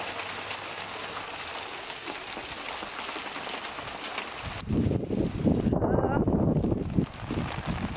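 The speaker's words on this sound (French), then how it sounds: "Carrément de la grêle." Dense pattering of hail on a surface, steady at first, then swelling louder and closer with a deep rumble midway before easing slightly.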